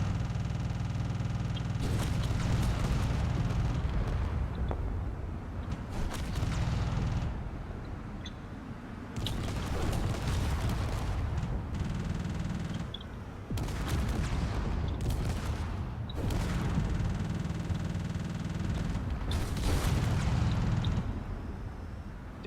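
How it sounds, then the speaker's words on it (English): Rocket hits and explosions in the video game Drone Wars, repeated heavy booming blasts with crackling bursts, arriving in clusters separated by brief lulls across a long, loud barrage. "They're taking a lot of rocket hits"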